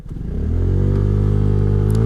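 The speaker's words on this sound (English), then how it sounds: "I'm going to go full throttle from a standstill." A SYM Cruisym scooter engine revs up hard at full throttle from a standstill, its pitch climbing steadily and staying loud and strained throughout.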